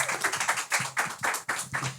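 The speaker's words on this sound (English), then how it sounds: "give them a round of applause" A few people clap in a quick, steady rhythm, close by, with no talking.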